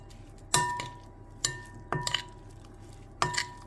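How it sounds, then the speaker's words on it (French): A spoon clinks against a bowl as a seasoning mixture with chopped fresh parsley is stirred, giving four or five sharp, close taps spaced irregularly over a low kitchen hum. "Et là, je vais continuer mon mélange."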